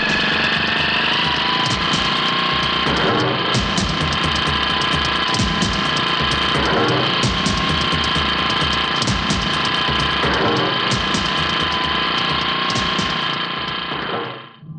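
A motorcycle engine idles steadily and loud throughout, a continuous rumbling drone with faint periodic pulses, cutting off at the very end.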